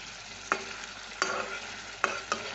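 Eggs, three of them, dropped into a pan of frying potato curry for a green egg curry: a low steady sizzle broken by four sharp scraping stirs at irregular intervals, fairly close, with no voices.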